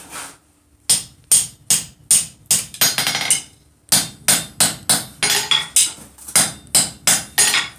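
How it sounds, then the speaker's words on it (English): A hammer taps lightly and rhythmically on blacksmith's box jaw tongs at the anvil, loud and close, in quick bursts of strikes separated by a short pause, with no voices. "just give it some really light taps"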